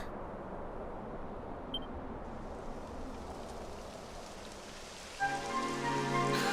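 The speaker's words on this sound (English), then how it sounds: "It would have to go and start raining, wouldn't it?" Steady rain patters on a surface throughout, soft and even, with a tonal hum rising in near the end, in the video game Dragon Quest XI S on Nintendo Switch.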